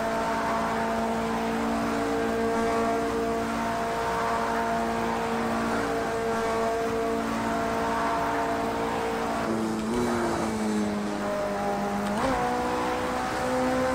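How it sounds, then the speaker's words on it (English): A steady Porsche 919 Hybrid race car engine drone with a tonal whine holds throughout, pitch dipping and rising briefly as the car shifts and revs, in Project Cars 2 on the Nürburgring Nordschleife. "Do love the sound of this car."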